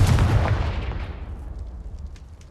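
A Confringo blasting spell detonates in Hogwarts Legacy near an old castle, a single loud, close boom with a heavy low rumble that fades out over a couple of seconds.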